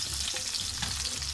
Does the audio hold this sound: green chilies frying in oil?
yes